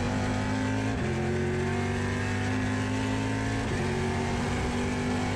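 Trans Am race cars running nose to tail at Portland International Raceway, their loud V8 engines droning steadily up close, with a pitch drop around each gear shift and no voices.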